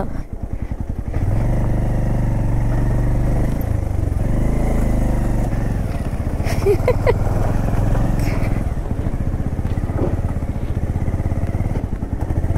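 A motorcycle being ridden through thick mud on a mountain road toward Sikkim, its engine droning loud and close throughout, with rough clattering from the chain and sprocket mixed into the constant rumble.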